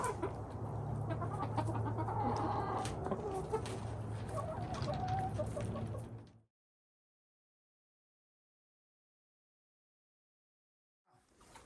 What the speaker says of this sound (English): You're my chicken friend.